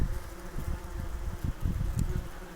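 Several wasps fly close by, their steady buzzing hum rising and falling continuously outdoors.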